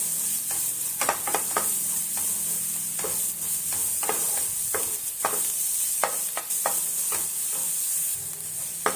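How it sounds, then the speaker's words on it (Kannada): Spices tempering in ghee with a steady, close sizzle running throughout, broken by frequent sharp spoon scrapes and taps against the pan as they are stirred toward golden brown. "ಗೋಲ್ಡನ್ ಬ್ರೌನ್ ಬರುತ್ತಂತ ತನಕ ಹುರ್ಕೊಂಬಿಡೋಣ"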